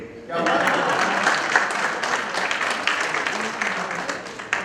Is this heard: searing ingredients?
no